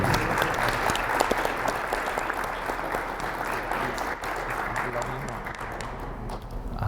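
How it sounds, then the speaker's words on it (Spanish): An audience at a conference on fiscal and labor reforms applauds the panelists and participants, sustained dense clapping in a large room that holds steady for several seconds, with faint voices underneath. "Voy a solicitar un aplauso para los panelistas y participantes."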